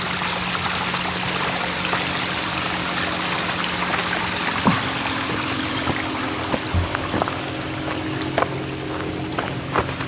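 Water from a stream at a trail water source along the Duck River Trail in Alabama, a steady close rushing and trickling wash with a few brief knocks and clicks, and no voices.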